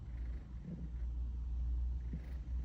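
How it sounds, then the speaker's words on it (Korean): A sick cat purring with laboured breathing, a low continuous rumbling purr heard up close and fairly faint, steady throughout with slight breathy pulses. "고양이는 아플 때도 골골 소리를 내는데 많이 힘들어 보였다"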